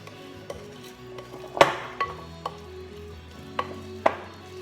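Chocolate chips being mixed into brownie batter in a bowl: a few soft, irregular scrapes and knocks of a utensil against the bowl, close and quiet, with no speech.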